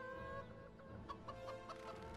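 Chicken clucking in the LEGO Lord of the Rings video game, a few short repeated clucks over a steady game music and ambience bed, moderately faint.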